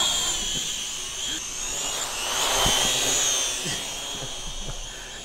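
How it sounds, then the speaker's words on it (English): A cheap Chinese clone of the DJI Mavic Pro quadcopter drone flies nearby, its high buzzing propeller whine swelling louder and then easing off as it moves around. "It's a fun drone."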